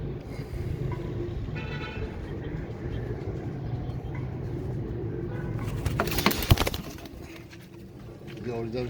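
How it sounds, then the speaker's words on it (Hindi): A Heera Laal pigeon coos softly amid steady background noise, with a brief burst of louder handling or rustling near the end. "ये ओरिजिनल दोस्तों कबूतर है हीरा लाल।"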